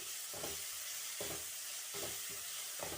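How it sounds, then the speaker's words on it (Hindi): Chopped tomatoes are stirred in a hot pan for a bottle gourd bharta, with about four rhythmic scraping strokes over a steady frying sizzle, close and clear with no voices. "टमाटर को भी अच्छे से हम मिक्स कर देंगे"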